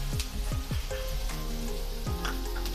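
Sliced onion, capsicum and cabbage fry in a hot pan for an egg roll filling, a loud, steady close-up sizzle with occasional stirring scrapes and no talk.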